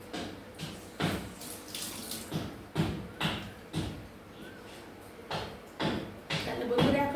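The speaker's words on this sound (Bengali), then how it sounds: "হাতে একটু ধুয়ে নিই।" Hands are washed under a running kitchen tap after cooking, with splashing water and intermittent bursts of rinsing close by.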